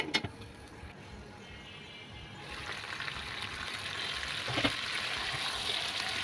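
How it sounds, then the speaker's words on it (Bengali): Marinated chicken seasoned with salt, stirred and cooked in a pan: a steady sizzle grows louder over several seconds, with a couple of brief utensil knocks, close and continuous. "দেড় চামচ লবণ দিয়ে দুই এক মিনিট ভালো করে নেড়ে চেড়ে রান্না করে নেব"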